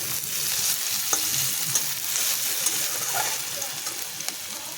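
Crushed garlic fries in oil with a steady, close hiss and sizzle and a few faint clicks of a spoon against the pan; nobody speaks.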